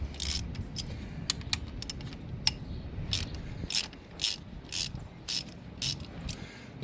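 A 10 mm ratchet clicks in short bursts while loosening bolts on a 2019 VW Tiguan, close and fairly quiet, with pauses between runs and no talk.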